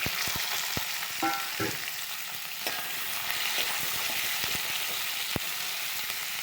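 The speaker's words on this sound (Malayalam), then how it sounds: "അപ്പം നമ്മൾ ചതുരനായി അരിഞ്ഞ് വെച്ചിരിക്കുന്ന ക്യാപ്സിക്കം സബോളും ചേർക്കണം" Diced capsicum and onion frying in a pan, a continuous bright sizzle with scattered scraping and tapping from stirring, close and steady, with no talk.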